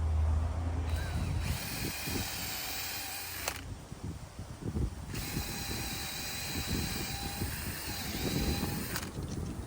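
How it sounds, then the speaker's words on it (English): A power drill whirs in long bursts, revving and grinding as it bores holes into a log for mushroom plug spawn, with brief pauses between runs. "When you drill these holes, go about halfway in and then back your drill bit out"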